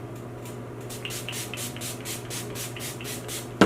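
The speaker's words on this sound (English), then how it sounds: "Maybe not douse, but do a nice even spray" Trixie Cosmetics setting spray is misted onto a face in a quick series of about ten short, even pumps, each a soft airy hiss, heard close up over a low steady hum.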